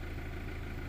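A Mazda 2 with a 1.5-litre diesel engine idling steadily after long running with neglected oil, a low, even rumble with regular pulses, close and continuous, no voices.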